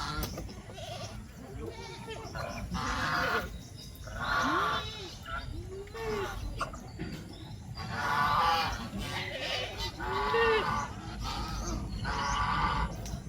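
Repeated honking calls from several geese on a farm, some close and loud, rising and falling in bursts over a steady outdoor background.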